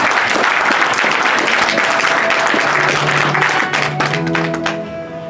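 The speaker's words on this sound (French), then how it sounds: "Applaudissements." Audience applause fills a political party conference hall, dense continuous clapping from a large crowd that tapers slightly near the end as some tonal sound rises underneath.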